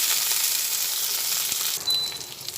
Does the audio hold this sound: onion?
yes